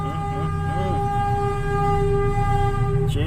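A train in a video game rumbles past loudly and steadily with a sustained horn tone throughout, close and continuous, with faint voices underneath.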